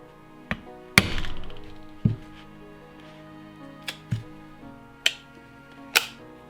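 Hammer blows bend a revolver yoke during alignment work: about seven sharp metallic knocks spaced out one at a time, close and distinct with quiet gaps between them.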